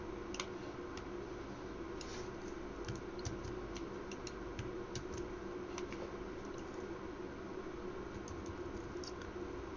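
Quiet, steady clicking of computer keyboard typing runs throughout, with faint scattered keystrokes over a low background hum during a Raspberry Pi electronics tinkering session.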